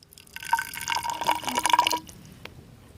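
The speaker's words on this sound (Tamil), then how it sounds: "வெட்டி வச்ச மூங்கில்ல நம்ம புரோட்டாவுக்குன்னு கொடுத்த சால்னா ஊற்றிக்கலாம்." Salna gravy for parotta pours into a cut bamboo stalk, giving a short burst of wet splashing and gurgling before a few faint drips.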